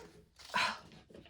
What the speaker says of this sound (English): my dogs keep barking at literally nothing